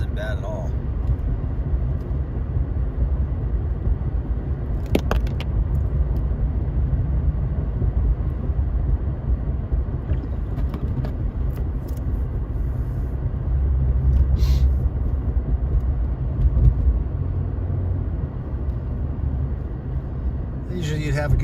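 A car drives through snowy Flagstaff neighborhoods during a storm, giving a continuous low engine and road rumble that stays close and steady from start to finish, with a few faint brief clicks along the way.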